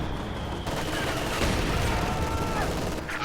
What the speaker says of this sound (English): Katyusha hitting the field, fires its barrage on the mortar again